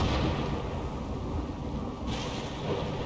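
Rumbling thunder rolls over steady heavy rain in the RimWorld video game, a continuous loud storm wash with a fresh swell of rain noise partway through, no voices.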